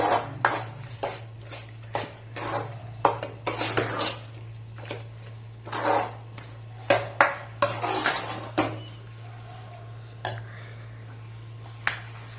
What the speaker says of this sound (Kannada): ಆಮೇಲೆ ಇದೆಲ್ಲವನ್ನು ಕೂಡ ಚೆನ್ನಾಗಿ ಮಿಕ್ಸ್ ಮಾಡಿಕೊಳ್ಬೇಕು